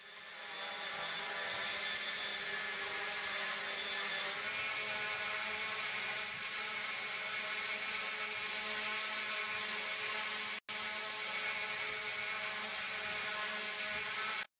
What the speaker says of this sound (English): In phase 1, the hexarotor approaches the sensor manually.